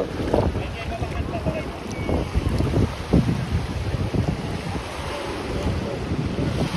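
Continuous rumble of sea waves at night at Cox's Bazar and wind buffeting the microphone, with a boat engine droning close by and faint voices underneath.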